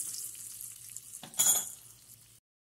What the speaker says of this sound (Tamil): இப்போ கருவேப்பிலை போட்டு எடுத்து அப்படியே தயிர் சாதத்தில் இதை கொட்டிடலாம்.